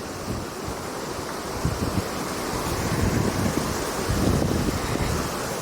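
Strong wind roars steadily across a snowbound mountainside at Denali, a dense, rushing hiss that swells and buffets the microphone, with no voices present.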